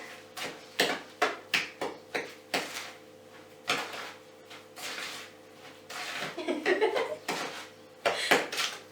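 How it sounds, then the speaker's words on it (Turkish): A spoon stirs a yogurt mixture for a flour- and egg-free semolina şambali dessert, giving a string of close, sharp scraping clinks against the bowl in quick bursts, with a longer churning stretch toward the end. "Şimdi bunları kaşık yardımıyla güzelce sen bir birbirine karıştır."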